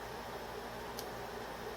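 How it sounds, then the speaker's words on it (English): An air conditioner hums quietly in a room, a faint steady broadband whoosh with a brief soft tick partway through. "I got an air conditioner going in the background"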